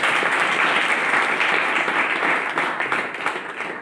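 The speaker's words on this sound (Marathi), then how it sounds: "एकदा त्या पालकांसाठी जोरदार टाळ्या वाजवा" An indoor audience at a pakhawaj drumming workshop breaks into loud, dense applause that holds steady, then thins slightly toward the end, with no talking over it.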